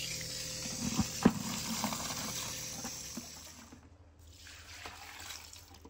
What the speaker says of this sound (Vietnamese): Trước khi cho gà ăn thì các bạn nên rửa sạch cái con ấu trùng dưới nước nhé.